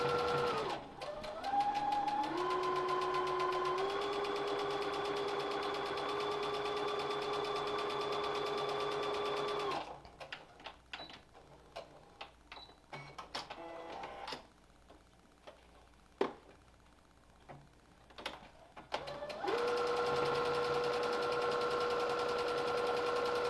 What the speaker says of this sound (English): you need to sew the ends